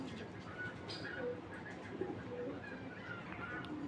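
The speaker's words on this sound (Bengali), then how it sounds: "তো আমার হাতে যেটা দেখতে পাচ্ছেন এটা হলো নর কবুতরটা।" A male racing pigeon cooing nearby, soft, low, repeated coos over a quiet background hum, with faint voices in the background.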